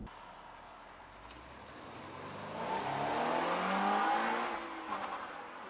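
A Toyota GR86 with a JDL UEL header and stock catback passes at a distance, its engine rising to a gentle swell and then fading away.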